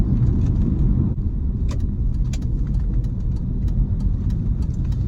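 A 16-year-old BMW M3 E46 with SMG gearbox running, its engine giving a deep steady low rumble close by, with a brief dip and scattered faint clicks and ticks over the drone.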